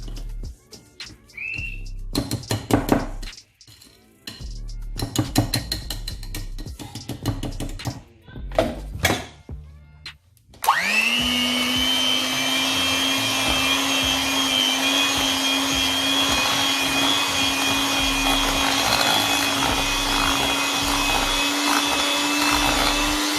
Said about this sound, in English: Now I need to mix.